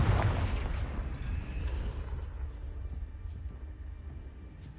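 A Confringo blasting spell explodes in the Hogwarts Legacy video game, a loud broadband boom at the start whose rumble decays slowly over several seconds, with faint crackles in the tail.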